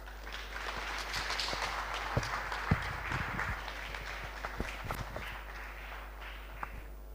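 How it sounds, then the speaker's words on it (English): At an alumni homecoming seminar, an audience applauds to welcome a speaker, a sustained wash of scattered clapping with a few sharper claps standing out. "With the mighty hands of applause, let's welcome him."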